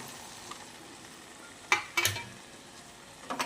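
A spoon stirs papaya and chana dal curry in a cooking pan over sizzling heat, with several scraping strokes and a faint background frying hiss, close and fairly quiet, with no talking.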